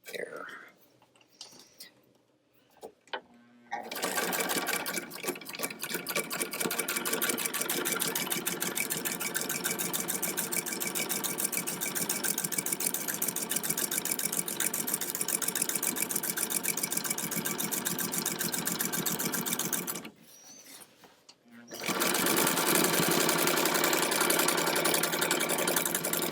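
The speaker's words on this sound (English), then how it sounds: "then I'm going to do the stitching above it" A small sewing machine stitches fabric for a summer croquet ensemble, giving a fast, steady mechanical whir with rapid needle ticks. It runs close and loud for long stretches, pauses briefly, then resumes, with soft speech at the start.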